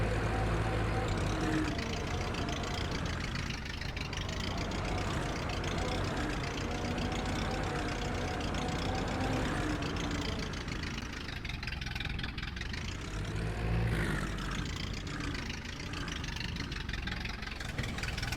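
An Ursus C-4011 farm tractor idles close by, its diesel engine giving a steady, loud, low chugging rumble with slight swells in tone throughout, and no other sound over it.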